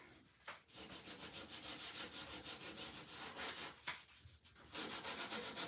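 Edges and corners of a wooden sign being lightly distressed with fine sandpaper, giving a steady rhythmic scratchy rubbing with brief pauses, close and continuous.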